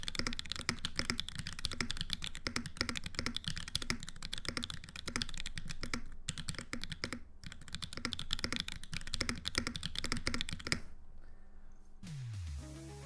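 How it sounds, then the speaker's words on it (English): Someone types fast on a Mode Envoy mechanical keyboard with Obscura linear switches, hard lattice blocks, ABS keycaps and no foam, a dense, even patter of close key clacks that stops abruptly near the end, followed by a brief rising tone. "this is the Mode Envoy with Obscura linear switches"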